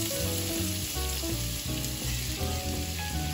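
Chopped onion sizzles in plenty of hot oil in a pan, a loud, dense, continuous frying crackle with no talking.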